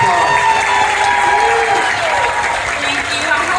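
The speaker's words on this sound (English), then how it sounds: "Everybody, give her a big round of applause." Audience applause and crowd noise at a Superman Celebration event Q&A, a loud continuous roar of clapping and cheering that holds steady throughout, with voices mixed in.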